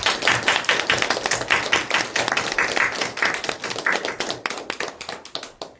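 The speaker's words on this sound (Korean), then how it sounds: "하나님께 영광의 박수 올려드리십시오" A Korean Sunday morning worship congregation claps together in a steady, rhythmic wave of applause, close and loud, continuing evenly throughout with no talking.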